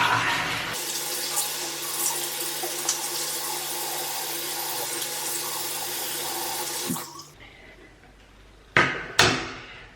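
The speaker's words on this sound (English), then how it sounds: "And then I just rinse it off with water." Bathroom tap water running steadily into a sink for several seconds while rinsing the face, then shutting off, followed by a couple of brief splashes, close and alone without talk.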